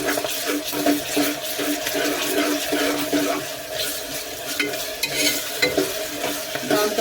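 Onions frying in oil in a pan for goat head curry give off a loud, continuous sizzle with stirring scrapes, close and steady, without talk.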